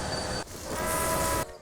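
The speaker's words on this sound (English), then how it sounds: "with this 210 Texas type locomotive, it can easily climb this heavy grade" A 2-10-4 Texas type steam locomotive in the Railway Empire video game hauls a train up a heavy mountain grade, a steady close rumble with ringing tonal overtones that briefly swells louder in the middle of the short stretch, with no talking.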